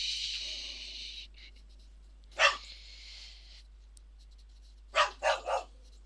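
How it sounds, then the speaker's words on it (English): A grumpy pet dog barks indoors: a single sharp bark near the middle, then three quick barks in a row at the end, fairly close, with quiet hissing between them. "Bark alert."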